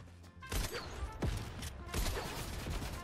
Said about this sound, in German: schießt da einer